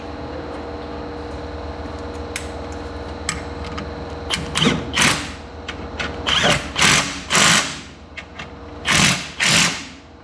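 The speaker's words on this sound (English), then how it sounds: "The other one in. Tighten them down." A power tool tightens half-inch suspension bolts while new QA1 front shocks go onto a classic 1963 Lincoln Continental. After a quiet workshop hum, several short, loud whirring bursts come in quick succession, close by.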